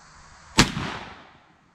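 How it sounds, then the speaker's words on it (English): A single sharp report from an Airforce Texan CF .457 air rifle firing a 196 grain slug at a lead plate, loud sudden crack followed by a short decaying ring and rumble, no voices. "this is 196 grain Nielsen slug. I'm going to go for the very top center of the plate here."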